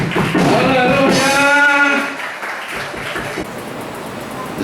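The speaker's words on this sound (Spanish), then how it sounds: "brindémosle un fuerte aplauso al que vive por los siglos de los siglos" A church congregation at a Christian service bursts into loud, sustained applause and cheering, heard close up with voices mixed in, then fading to a quieter murmur.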